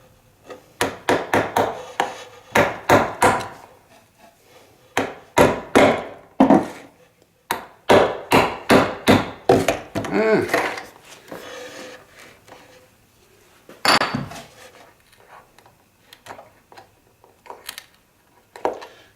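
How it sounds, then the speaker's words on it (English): Wood crackling and creaking under a tool during repair of a Gibson BR-6, a run of sharp, dry snapping bursts in irregular clusters, some quick and rapid, others spaced out. "you can hear this thing, like the wood crackling underneath it"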